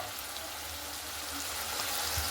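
Turmeric and masala frying in a pan for Bengali chicken, giving a soft, steady sizzle that runs quietly and evenly throughout with no voices.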